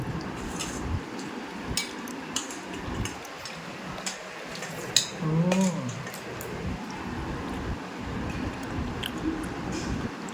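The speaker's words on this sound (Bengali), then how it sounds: "ভালো করে পেঁপেটা চটকে নিয়ে ভাতের মধ্যে এরকম করে মেখে" Ripe home-grown papaya being squeezed and mashed by hand into cooked rice, giving soft, wet squishing and squelching with a few sticky smacks. The sound is close and continuous, with nobody speaking.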